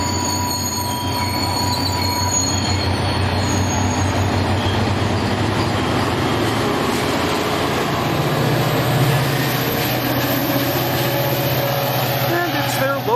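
A light rail train pulling away in Salt Lake City, wheels squealing with a continuous rumble of rail noise close by, while a voice talks in the background.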